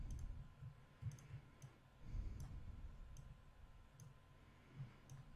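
Computer mouse clicks while drawing shapes in Inkscape, quiet and close, in short irregular bursts with small pauses and a low room hum underneath.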